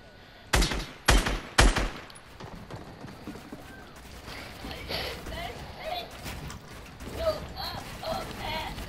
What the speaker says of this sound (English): 3 AR shots.